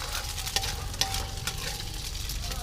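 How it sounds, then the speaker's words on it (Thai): An egg sizzles and fries in a hot pan for Myanmar-style fried rice, with a steady close crackle and a few sharper spatters, and no talking over it. "เขาทำไข่กระทะแบบนี้ครับ"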